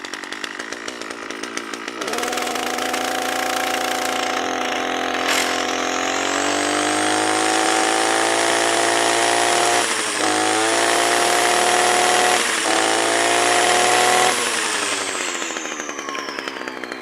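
A small two-stroke engine on a brush cutter mounted on an MTZ 82 tractor revs up and runs at a steady high-pitched whine for several seconds, close and loud, with brief dips before winding down.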